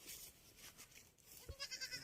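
A seven-month-old goat on a goat farm bleats softly a few times in quick succession, fairly faint, with no talking over it.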